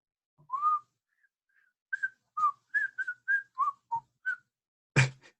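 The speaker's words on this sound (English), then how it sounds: "having a crappy attempt at whistling" A person whistles a loose, uneven tune of about a dozen short, clear notes with small gaps between them, alone in a quiet room, ending with a sudden loud noise.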